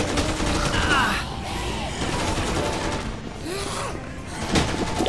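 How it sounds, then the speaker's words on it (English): Rapid video game gunfire crackles in bursts alongside mechanical clicks and gear-like rattles, loud and close, with a player's voice talking over the action. "Stop shooting at me."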